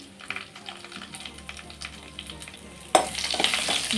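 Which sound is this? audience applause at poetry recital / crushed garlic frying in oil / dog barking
crushed garlic frying in oil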